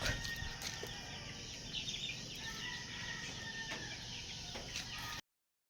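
Hens clucking steadily in a busy yard just after feeding, with a rooster and other background farm noise mixed in, fairly close and continuous.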